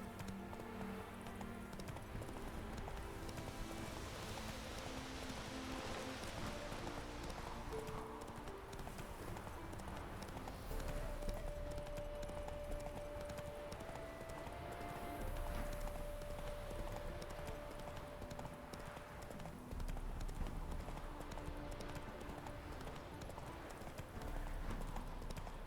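Hooves clip-clop in a fast, continuous gallop as a horse runs in the video game The Witcher 3, quiet and steady under game music and ambience.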